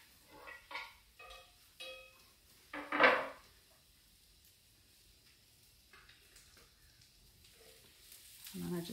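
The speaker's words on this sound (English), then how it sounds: "then I can just use my cutting board to push all the diced onions into the hot skillet." Diced onions are pushed off a cutting board into hot olive oil in a skillet: a few clattering scrapes, then a short loud hiss as they hit the oil, settling into a quiet sizzle.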